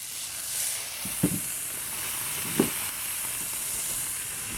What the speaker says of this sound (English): we're going to fry this up a little bit